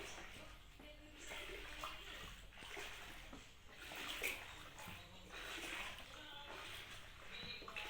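Homemade OXY detergent liquid swirled and rocked in a container without stirring, giving a steady wet sloshing and splashing that continues the whole time at moderate loudness.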